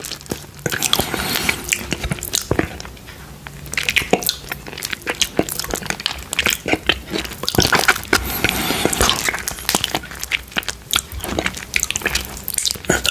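Close-up ASMR eating of creamy durian fruit, with soft wet squishing, sticky mouth sounds and occasional crisp bites repeating steadily throughout, alone with no talking.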